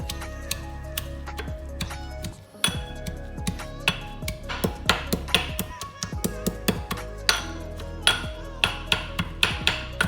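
Lemon slices and mint leaves are crushed in a glass for a virgin mojito, giving a run of sharp clinking and tapping strikes, quick and irregular at first and then evenly spaced, close to the mic with no talk over them.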